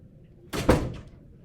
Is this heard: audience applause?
no